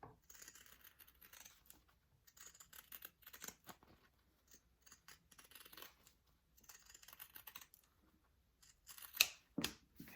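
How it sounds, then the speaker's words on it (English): Scissors snip around the curved seam allowance of a sewn fabric bag, a series of faint, close clicks and short cuts spread unevenly through the stretch, with one sharper louder snip near the end. "you definitely want to clip those curves"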